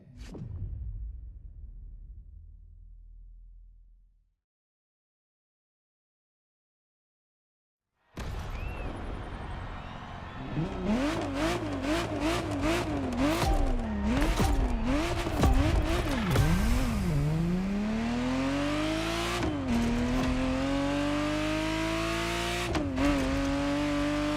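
The engine of a Ferrari Testarossa in The Crew Motorfest video game, heard after a short fade and a gap of silence. It revs hard through rising and falling gear changes with whooshes, growing loud and continuous.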